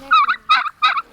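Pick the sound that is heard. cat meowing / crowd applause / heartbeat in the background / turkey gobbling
turkey gobbling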